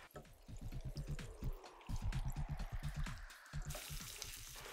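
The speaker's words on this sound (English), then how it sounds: "I'm going to leave it in the oil to fry for another 2 minutes" Small anchovies deep-frying in hot oil for a Ewe-style anchovy stew, giving a steady crackling sizzle with rapid bubbling pops and a brighter hiss near the end, close and continuous with no talking.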